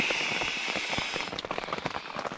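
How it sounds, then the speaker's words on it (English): Heavy rain beats on a tent in a dense, crackling patter with sharp individual drops that ease slightly toward the end, heard close from inside. "outside here, just raining its ass off"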